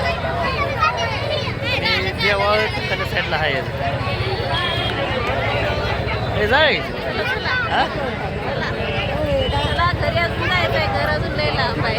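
Dense crowd hubbub at the Mhaswad village fair, a steady babble of many voices and footsteps close around, with a nearby voice talking over it throughout.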